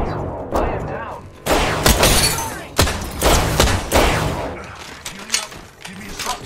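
Gunfire in a shooter video game, with rapid bursts of shots and sharp impacts coming in loud clusters, mixed with mechanical clicks and thuds.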